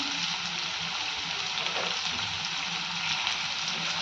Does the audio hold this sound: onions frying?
yes